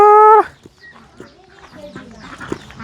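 Chickens on a farm: one loud, brief tonal call opens, followed by faint scattered clucks and soft rustling farmyard noise.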